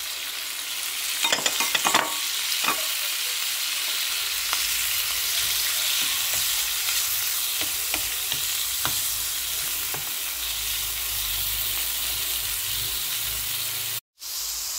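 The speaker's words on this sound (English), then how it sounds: "So add the pork." Pork sizzles and fries in a pan with garlic, onion and butter for sisig, a steady loud hiss with scattered crackles and stirring clatter near the start, briefly cutting out near the end.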